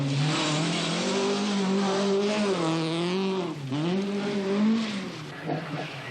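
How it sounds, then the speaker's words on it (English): Tony Pond's Vauxhall Chevette rally car runs the Weston Park special stage of the 1982 RAC Rally, its engine loud and close, with the note rising and dipping as it shifts gears and accelerates. "heading the world's best on the opening special stage at Weston Park is Britain's top hope on the event, Tony Pond, in his Vauxhall Chevette"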